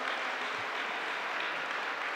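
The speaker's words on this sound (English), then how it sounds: "Give them a big round of applause." Applause from an audience at a Filipino heritage community celebration, a soft, even, distant wash of clapping held steady for a couple of seconds with no talking.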